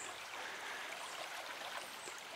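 The Quinebaug River at Thompson, Connecticut flows past the shore in a steady, soft rushing wash, faint and continuous with no voices.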